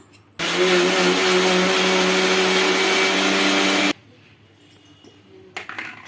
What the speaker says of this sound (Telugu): ఇప్పుడు మళ్ళీ గ్రైండ్ చేసుకుందాం స్మూత్గా